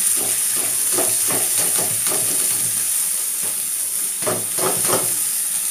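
Washed rice stirs and fries in a pan with onions, giving a steady sizzle and hiss broken by repeated scraping strokes of a spoon, close and loud, with no talk.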